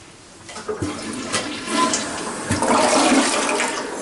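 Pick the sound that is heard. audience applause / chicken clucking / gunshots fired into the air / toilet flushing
toilet flushing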